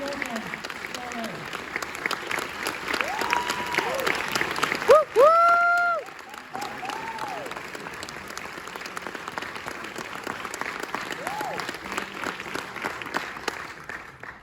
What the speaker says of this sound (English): Let's please welcome Suave.